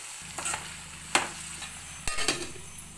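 Eggplant curry is stirred in a pan over a soft background sizzle, with a few sharp scrapes and knocks of the spoon against the pan spread unevenly across the moment.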